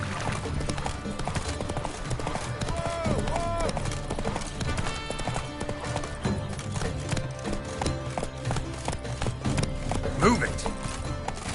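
Horse hooves galloping in The Witcher 3: Blood and Wine, a steady clip-clop rhythm running under game music and voices throughout.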